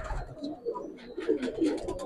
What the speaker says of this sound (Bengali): খুব সুন্দর কিছু গিরিবাজ পায়রা দেখুন